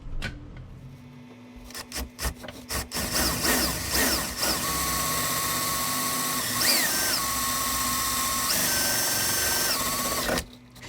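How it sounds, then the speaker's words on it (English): A power drill whines steadily for several seconds drilling a hole in plastic, its pitch shifting as it bites in, after a few short clicks and bursts at the start. "I can see the hole I need to make and drill that"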